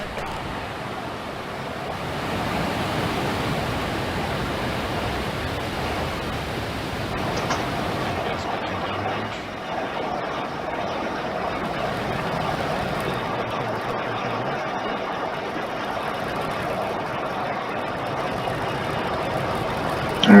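A SpaceX Falcon 9 rocket lifts off on the Transporter 1 mission, heard from a distance as a steady, broad roar like rushing wind or surf that holds unbroken throughout.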